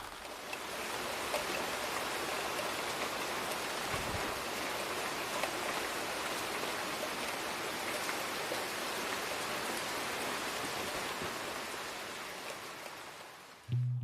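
Steady, dense patter of rain drumming close overhead on a tent, continuous and even for a long stretch before a brief thump at the end, in Waterton Lakes National Park.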